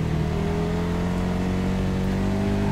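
A KTM 1190 RC8 R superbike roars continuously at high revs while overtaking on a race circuit, a loud, steady engine drone with wind noise close to the rider.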